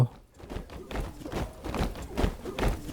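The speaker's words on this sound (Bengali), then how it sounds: "মার্চিংয়ের শব্দ" Synthesized marching footsteps sound effect from a sound-design plugin stamp in a steady, even rhythm, several heavy treads in quick succession at moderate loudness, with no voices.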